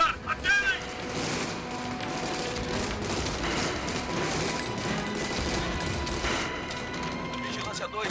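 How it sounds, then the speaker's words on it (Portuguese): Sustained heavy gunfire rages through an action film shootout from 1998, a steady mass of overlapping automatic shots and impacts filling the scene at a moderate distance, with voices briefly heard beneath. "Comecem a atirar. Atirem!"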